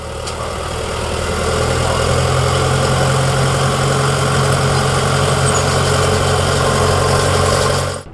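A harvester's engine idles after starting, a steady loud low rumble with constant mechanical vibration close by that runs unchanged throughout, with no talking.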